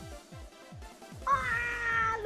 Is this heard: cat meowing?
yes